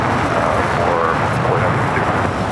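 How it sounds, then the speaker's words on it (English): A DHL Polar Air Cargo Boeing 777 freighter takes off at LAX with a steady, loud, broad jet roar that holds unchanged throughout, with no voices over it. "Next takeoff is DHL Polar Air Cargo Flight 962 heading to Cincinnati in a 777 freighter."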